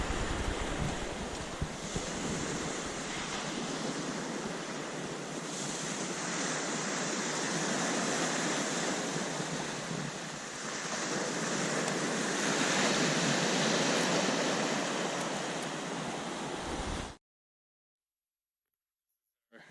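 Surf washing onto the shore at Seely Beach campsite on the Fundy Footpath, a steady broad roar with slow swells in loudness that continues until it cuts off abruptly near the end.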